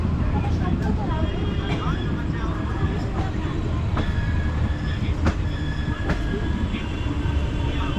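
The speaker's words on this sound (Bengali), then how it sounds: "দশটা বেজে তিন মিনিটে নৈহাটি থেকে আমাদের ট্রেন ছেড়ে দিল" A passenger train pulling out of Naihati station toward Bandel runs along the rails, heard from on board as a steady low rumble with periodic sharp clicks from the wheels and brief metallic squeals, under a voice speaking.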